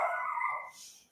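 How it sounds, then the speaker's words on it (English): A single dog barks nearby, a short, bright bark trailing into a softer whine, with nothing else around it. "Dog's barking."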